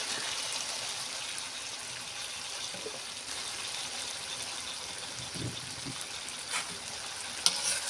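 Small mixed fish frying in oil in a pan, a steady, fairly faint hiss of sizzling with a few soft bumps of movement and a sharp click near the end.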